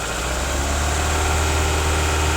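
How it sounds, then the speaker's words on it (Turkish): An engine held at raised revs, a loud, steady drone with a deep low rumble and no voices. "Biraz gaz verelim."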